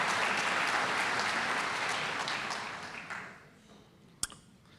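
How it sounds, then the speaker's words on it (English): An audience applauds the mayor of Yorba Linda at an evening event, a dense wash of clapping that holds for a couple of seconds, then fades out and ends with one sharp click. "Let's give him a round of applause."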